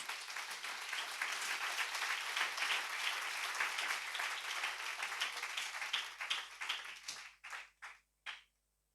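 A church congregation applauds for the Lord Jesus during a sermon: sustained, dense clapping from many hands that fades out into a few last scattered claps.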